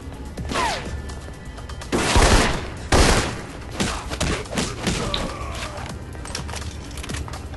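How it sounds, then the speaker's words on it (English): Gunfire erupts in the Alpha Protocol video game as attackers hit security guards: dense volleys of shots with sharp cracks and heavy thuds, loudest in a few bursts, over a constant busy noise bed. "It sounds like Marburg's men are attacking the security guards"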